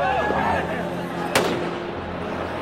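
Fireworks go off among a crowd: a sharp, loud bang stands out midway over a dense, rumbling background of crowd noise and distant crackles.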